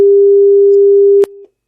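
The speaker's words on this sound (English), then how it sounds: "It is a pure sine wave. And I'm going to go and play it." A steady pure sine-wave test tone holds at one pitch, loud and alone, then cuts off abruptly with a click and a brief quieter tail.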